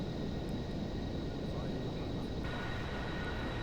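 Passenger jet engines roar steadily through a low pass in the Aerofly FS 2 flight simulator, a continuous broadband rumble with a faint whine on top, loud and unbroken throughout.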